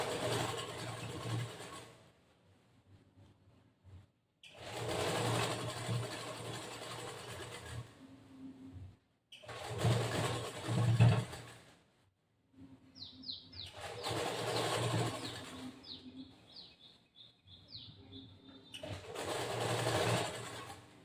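A sewing machine stitches a second line along a seam of a boat-neck blouse, running in several loud bursts of steady whirring separated by short pauses, with faint bird chirps in the gaps.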